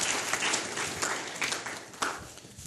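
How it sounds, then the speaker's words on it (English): A business marketing seminar audience gives a brief round of applause, a soft wash of clapping heard somewhat distant and steady throughout. "I'm going to give him a round of applause, please."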